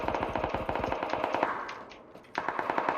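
Rapid automatic gunfire from PUBG Battlegrounds, loud bursts of rhythmic shots that pause briefly before another burst resumes, with no talking.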